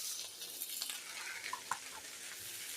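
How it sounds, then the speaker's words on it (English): A breakfast skillet sizzles and fries steadily in a pan while food is stirred, with a few soft utensil clinks and scrapes rising over the continuous crackle. "I'm going to stir it this last time and add the eggs"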